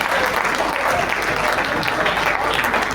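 An audience at a Hindi kavi sammelan poetry gathering breaks into sustained clapping, a loud, dense wash of applause that fills the whole moment without letting up.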